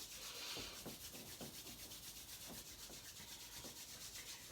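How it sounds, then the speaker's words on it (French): Hands rub together during a gentle self-massage exercise, a soft steady swishing friction with faint rhythmic strokes, quiet and close. "on frotte les mains"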